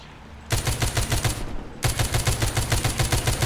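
Rapid automatic gunfire from the zombie shooter game The Walking Zombie 2, loud and continuous in two sustained bursts separated by a short pause, with no talk over it.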